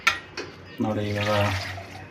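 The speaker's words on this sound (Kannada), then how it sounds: "ಮಿಕ್ಸಿ ಜಾರಲ್ಲೆಲ್ಲ ಉಳ್ಕೊಂಡಿರೋದೆಲ್ಲ, ತಟ್ಟೆಲಿ ಉಳ್ಕೊಂಡಿರೋದನ್ನೆಲ್ಲ ತೊಳೆದ್ಬಿಟ್ಟು ಇದಕ್ಕೆ ಹಾಕ್ತಾಯಿದ್ದೀವಿ." Water poured and swirled to rinse leftover ground masala from a mixer jar in a home kitchen, a short splash followed by a steady pouring rush, close and fairly loud.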